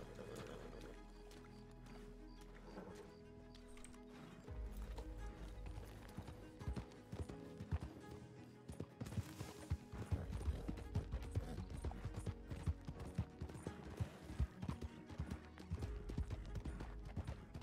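Horse hooves clip-clop steadily in Red Dead Redemption 2, a moderate, continuous rhythm over low game ambience with occasional louder knocks.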